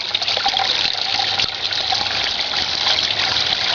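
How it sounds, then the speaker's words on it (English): Water gushes steadily and loudly through the pipes of a small tabletop drop-trap sluice used for catching gravel. It makes a continuous dense rush with no pauses and no speech. "with more water force being pushed through the pipes"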